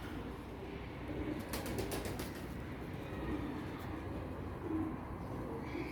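Soft, low pigeon cooing repeats faintly against a steady background hum, with a brief flutter partway through.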